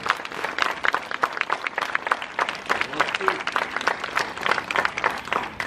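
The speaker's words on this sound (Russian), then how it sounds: "Ваши аплодисменты." Audience applause at an open-air choir concert, with uneven clapping from a crowd heard at moderate distance, rising and falling throughout while a voice talks over it.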